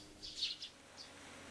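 Sparrows chirping in a fairy-tale scene: a few quick, high tweets clustered near the start and one more shortly after, faint and thin against a quiet background with no talk.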